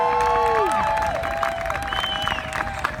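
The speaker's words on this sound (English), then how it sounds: "Please give a nice round of applause for Bonnie Chavda." A rally crowd in Charlotte, NC applauds and cheers for a speaker, with whistles and sliding whoops over a steady bed of clapping that stays loud throughout.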